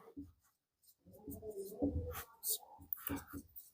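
Pen on paper writing notes during a class 12 physics lesson, scratchy intermittent strokes close to the microphone, with a voice speaking softly alongside.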